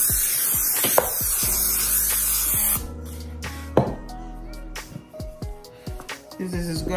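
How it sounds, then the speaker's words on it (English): A short hiss of cooking spray onto a baking tray for a few seconds, followed by quieter clinks and handling sounds of the tray. "Spray your tray."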